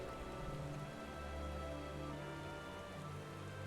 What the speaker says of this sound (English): I like how it's raining